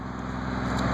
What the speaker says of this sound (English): Here comes a big truck.